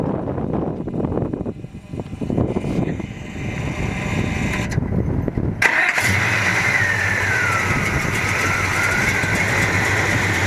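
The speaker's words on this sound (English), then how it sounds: "Let's fire it up." A 1971 Chevelle's 454 V8 engine cranks and catches at about six seconds, then settles into a loud, steady, lumpy idle rumble that continues close by.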